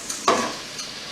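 Food with Creole seasoning stirred in a hot pan, a few brief scraping stirs over a soft sizzle, close and alone.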